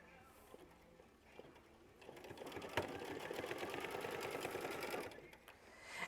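An embroidery sewing machine stitches out a quilt block design in one steady, fairly quiet run of rapid needle ticking lasting a few seconds, with quieter rustling before and after.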